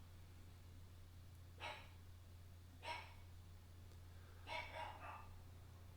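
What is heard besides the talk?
dog barking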